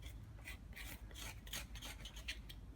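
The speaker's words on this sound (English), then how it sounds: "So I'm going to scrape this a little bit" A tool rasps against a piece of wood being roughened to prepare a bonsai raft, giving repeated back-and-forth scraping strokes, close and steady, with no voice.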